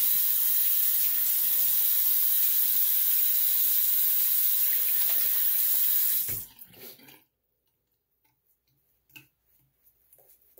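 Tap water running steadily into a sink while a razor is rinsed, a loud continuous splash that cuts off abruptly partway through, leaving faint clicks and small handling sounds.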